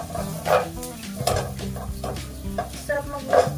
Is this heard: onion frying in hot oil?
yes